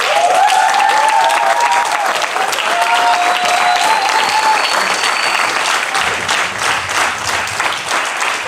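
Loud, sustained applause from a graduation ceremony crowd for standing faculty and staff, dense and steady throughout, with whistles and cheers rising over the clapping.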